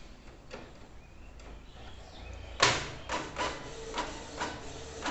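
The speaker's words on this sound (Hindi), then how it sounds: "ब्लैक प्रिंटिंग बहुत ही तेज़ी से हो रहा है, कलर प्रिंटिंग में थोड़ा सा टाइम ले रहा है" A Canon MG3070s inkjet printer feeding paper and printing, heard close as a sudden mechanical start followed by a steady run of rhythmic carriage sweeps and clicks, without talk.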